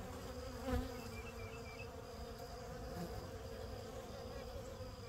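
A swarm of honey bees hums steadily around a hive, a dense continuous buzz with no speech, holding level for the whole stretch.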